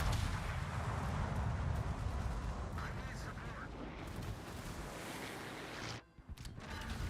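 Warship main guns firing in the naval video game World of Warships, a dense, rumbling barrage of booming shots that fills the scene, with someone talking over it and a brief dip near the end.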